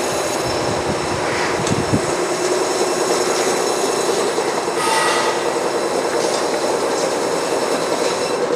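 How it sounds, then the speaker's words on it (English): Horizontal bandsaw cutting through reticulated foam, a loud, steady mechanical roar with a belt squeal rising briefly near the middle, continuous throughout with no talk. "Little belt squeal there."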